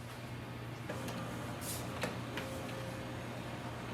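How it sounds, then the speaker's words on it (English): A quiet machine hum with a few soft clicks and mechanical clunks as an HP Smart Tank inkjet printer powers down. "Printer is switching off."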